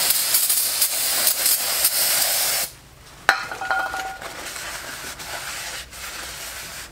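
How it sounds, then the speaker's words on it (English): Aerosol spray can hisses steadily and close for several seconds during car repair work, then cuts off, followed by a clink and quieter handling noises. "put it on backwards and give it a good spray."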